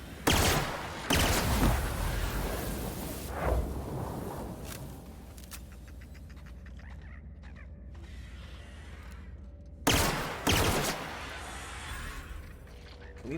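Gunshots from a golden gun in The Outer Worlds video game: a loud opening shot, a few more sharp reports over the next seconds, mechanical creaks and clicks in a quieter stretch, then another sudden blast near the end.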